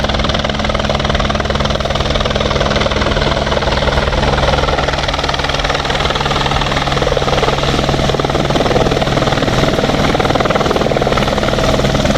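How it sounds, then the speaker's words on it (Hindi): A helicopter arrives at the Hemkunt Sahib helipad, its loud continuous rotor thump and engine roar filling the air steadily throughout without any pause. "हेलीकॉप्टर जो है कहते हैं आ रहा है। हाँ, तो वेट ओवर, आ गया"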